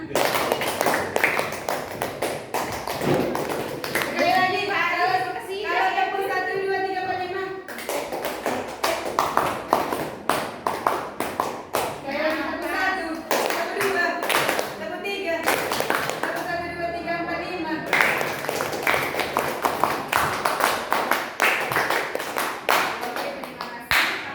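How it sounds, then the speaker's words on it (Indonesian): Rhythmic counted hand clapping in groups, sharp claps in bursts separated by pauses, with voices chanting the count between and over them. "Tepuk 1, tepuk 2, tepuk 3, tepuk 4, tepuk 1, 2, 3, 4, 5"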